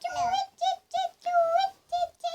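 Recorded birdsong plays in an animal sound guessing game, a series of short, clear, tonal whistled calls separated by brief pauses, close and loud with no talking.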